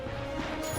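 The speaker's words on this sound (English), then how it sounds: "Look at him smashing crates." Crates smashed by Ratchet in the Ratchet and Clank video game, a quick crunching break heard over a steady bed of game music and ambience.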